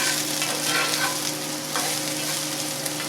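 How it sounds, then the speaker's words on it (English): Mushrooms or bell peppers searing in a hot pan, a dense, even hiss of frying that holds steady and fairly loud across the whole stretch, with a faint hum beneath and no voices. "it's good to give them a little bit of a sear so they're a bit cooked before they go into the actual sauce"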